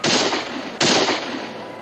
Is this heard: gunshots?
yes